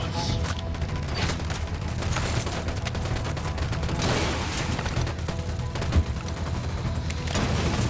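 Dense, loud gunfire crackles nonstop in a Tom Clancy's Ghost Recon Wildlands firefight, rapid automatic bursts layered into a continuous roar with one sharper shot standing out.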